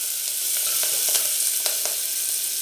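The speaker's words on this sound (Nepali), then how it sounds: "मेथीको साग दिन्छ, यसलाई हामी हल्का हल्का चाहिँ फ्राई गर्छौँ" Fenugreek greens frying lightly in a pan with turmeric, a steady bright sizzle with a few soft stirring clicks, close and alone.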